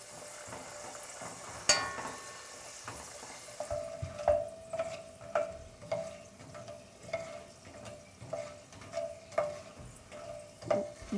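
Coffee beans frying in hot oil in a pan for Ethiopian bune qela, a soft steady sizzle punctuated by regular clicking scrapes of stirring, roughly one per second, close and fairly quiet.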